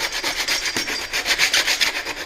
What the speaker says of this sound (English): grab some 80 grit sandpaper and just rough it up like this